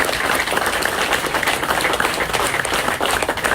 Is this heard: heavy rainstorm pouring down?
no